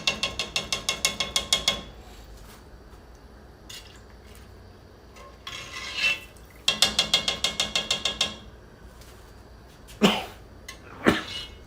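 Two sharp, brief bursts stand out near the end, sounding like sneezes, amid rapid rhythmic clattering and kitchen noise.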